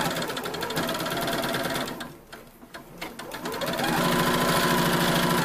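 A sewing machine stitching shirring elastic into fabric, running in a fast, close, steady mechanical whir that briefly slows and dips near the middle before resuming at full speed.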